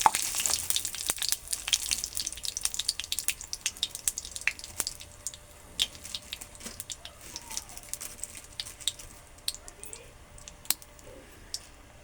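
Three bay leaves crackle and sizzle in hot oil in a home kitchen. Dense, close popping and spitting runs throughout, loudest at the start and easing gradually, and nobody talks.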